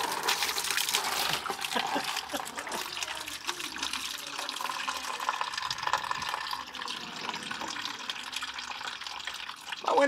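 Coolant pours and trickles steadily from a Porsche 944 radiator pipe for several seconds, a continuous splashing stream with brief handling noises near the end.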